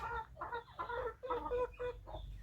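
Farm chickens cluck in a string of short, choppy bursts at a modest level, with small gaps between the calls.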